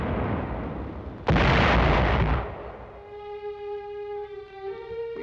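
A wartime artillery barrage erupts in one massive close blast that roars for about a second, then decays into rumbling tail under sustained tonal film music, with no voices.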